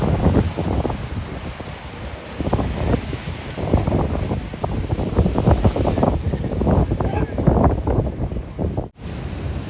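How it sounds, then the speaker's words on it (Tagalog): Heavy surf of high ocean waves rolls and crashes in repeated surges at La Jolla Cove, San Diego, under strong wind buffeting the microphone, loud and close, with no one speaking. "Pero ang taas ng alon"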